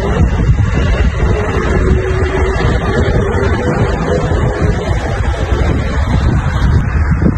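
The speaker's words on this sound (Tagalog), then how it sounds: "Gumagalaw sa ihip ng hangin." Outdoor wind buffets the microphone in a constant loud, low rumble, with no other sound standing out.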